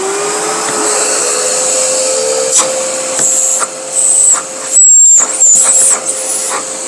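A Bosch workshop vacuum cleaner from the GAS 15 PS / GAS 12-25 PL range runs steadily and loudly with a constant motor whine, with a few brief bursts of louder suction noise toward the end.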